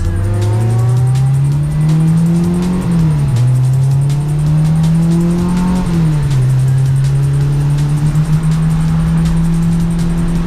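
A race car on a track session at The Ridge Motorsports Park drones loudly from inside, its engine note rising steadily through gears with two shifts, alone and continuous.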